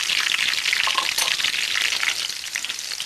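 Corned beef deep frying in hot oil, a dense, continuous crackling sizzle with a few faint stirring scrapes, close and steady with no voices.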